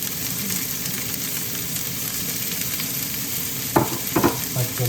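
Green chillies and onion sizzle steadily in hot oil for kottu roti, a dense close crackle throughout, with a few sharp scraping stirs of a utensil near the end.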